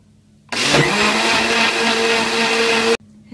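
A blender whirs loudly and steadily as it mixes crêpe batter ingredients with milk, baking powder, coriander and parsley, starting abruptly, running about two and a half seconds and cutting off sharply.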